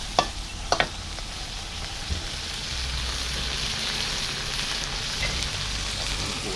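Chicken liver and bamboo shoots stir-frying in a wok, a steady close sizzle with a few sharp spatula clinks early on and continuous hiss throughout.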